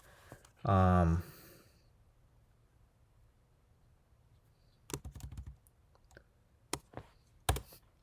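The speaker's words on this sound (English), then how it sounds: "You just right click whatever you want to change or view." Computer mouse right-clicks at a desk, a few sharp isolated clicks in quick succession after a brief vocal burst, with a quiet room otherwise.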